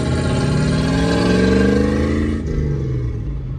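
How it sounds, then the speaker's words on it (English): A car engine runs loud and steady with a rising, revving pitch that eases slightly toward the end, close and continuous with no talk over it. "Maybe your car is loud."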